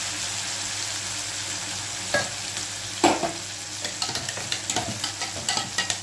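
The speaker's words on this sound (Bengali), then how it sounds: "এর মধ্যে মশলাটা অ্যাড করে দেবো। লো ফ্লেম করে রেখেছি আমি।" Spice masala frying in a pan over a low flame gives a steady close sizzle, then a run of quick scraping stirs and clinks grows busier toward the end, with no talk.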